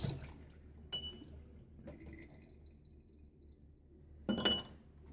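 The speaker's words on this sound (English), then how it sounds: "So let's add maybe half a teaspoon of water, not go too" Half a teaspoon of water is added to shaving soap in a bowl during a wet shave, giving faint clinks and a soft splash near the end against quiet background.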